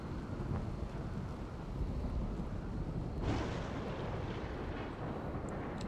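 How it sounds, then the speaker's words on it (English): A RimWorld video game storm produces a constant low roar of wind, with a thunder rumble swelling partway through, loud and continuous with no voices over it. "these storms are always kind of loud, but it should pass"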